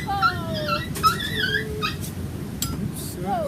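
Several dogs whimper and yip in short high cries over a steady rustling background, with a few sharper bursts between the whines and the dogs sounding fairly close.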